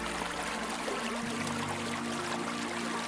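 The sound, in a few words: stream water flowing beneath a window in an Italian village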